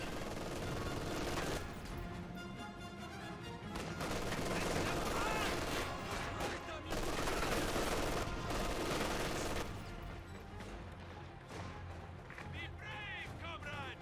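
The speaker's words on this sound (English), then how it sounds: "Jaeger infantry firing away." Jaeger infantry firing in Company of Heroes 2: continuous rattling rifle and machine-gun fire with scattered shots, layered under a commentator talking throughout.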